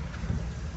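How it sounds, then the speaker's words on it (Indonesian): Heavy rain pours steadily over a street in Jakarta, a dense, constant wash of water noise with a low rumble underneath and no voices. "Tuh, hujan merata, banjir pasti di mana-mana, nggak di sini doang."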